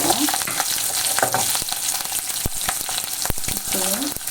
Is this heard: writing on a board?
no